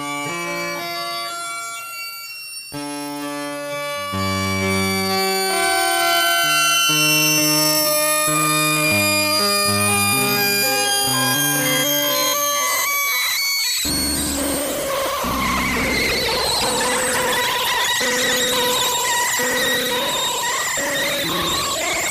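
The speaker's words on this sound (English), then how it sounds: "So you can start hearing the net effect of what a pitch shifter and time stretcher sounds like." Monsoon pitch shifter and time stretcher effect run fully wet on a melodic signal, stepping tonal notes that smear into a dense, shimmering wash in the second half.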